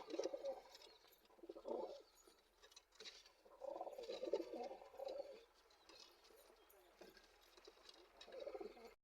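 Soft, low pigeon coos come in several bursts, one after another, fairly faint against a hushed, rustling background.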